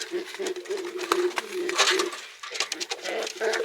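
A pigeon close by makes low, agitated cooing and grunting calls in short bursts, with handling noise and rustling around it.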